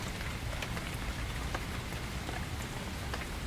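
Steady rain patters through a forest, a dense, even hiss with scattered louder drops striking leaves and ground close by, continuous and alone with no voices.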